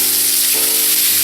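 Salmon fillet sizzling hard in a hot pan, a loud, continuous frying hiss that shifts briefly as the fillet is flipped over partway through, with no talking.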